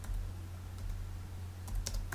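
Rapid clicks of typing on a computer keyboard with a misbehaving key, scattered irregular taps over a steady low electrical hum, close and fairly quiet, no voices.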